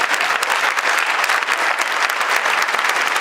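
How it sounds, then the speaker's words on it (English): An audience claps steadily after a debate, a dense full round of applause at close range that continues throughout. "Let's give them one more round of applause for their efforts tonight."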